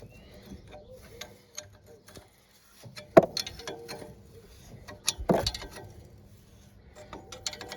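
A bolt with a spring lock washer is turned by hand on an Iseki TA235 Japanese rotary tiller during a seal replacement: faint, close metallic ticks and clicks, with a couple of louder knocks in a quiet workshop.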